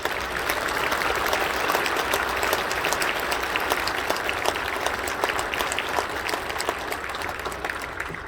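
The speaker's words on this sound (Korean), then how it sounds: "박수해 주시겠습니다." Steady, dense applause from a church congregation at an Easter dawn joint worship service, sustained evenly at full strength from start to end with no voices standing out.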